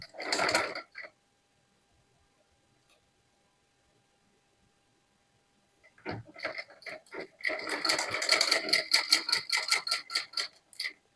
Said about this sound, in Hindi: इस तरीके से रखेंगे और सिलाई को लगाते जाएंगे इस तरीके से